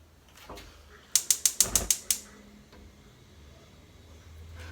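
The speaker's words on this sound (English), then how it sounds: "I'm gonna go right ahead and turn the heat on" A stove burner knob turned to high heat, a quick run of about seven sharp ratcheting clicks from the igniter, close and crisp, followed by a faint hum.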